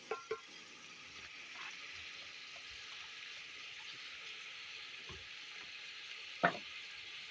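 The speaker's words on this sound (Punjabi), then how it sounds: "ਇਹ ਸਭ ਕੁਝ ਇਕੱਠਾ ਪਾਣਾ ਹੈ ਔਰ ਇਕੱਠੇ ਦੀ ਭੁਨਾਈ ਕਰਨੀ" Mixed winter vegetables with fenugreek fry in a pot in a Punjabi kitchen, a faint continuous sizzle broken by a few sharp knocks and scrapes of stirring.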